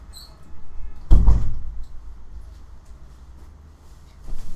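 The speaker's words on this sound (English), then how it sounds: "let me try closing my door so you won't hear the birds" An indoor room door swings shut with a single solid thud, followed by a steady hum of air conditioning, with faint bird chirps outside fading away.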